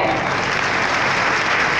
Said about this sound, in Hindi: राजा जी के लिए एक बार जोरदार तालियां हो जाए।